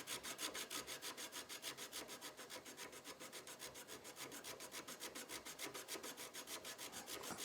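A checkering file cuts the front strap of a 1911 pistol in fast, rhythmic back-and-forth strokes, a quiet, steady rasping scrape that repeats about four times a second and is heard alone.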